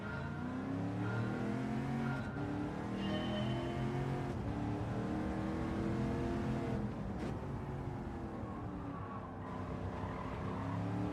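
A racing car engine in Gran Turismo 7 plays throughout a time trial, revving up and down through gear changes near 6,000 RPM with tire noise. The sound is continuous and fairly quiet.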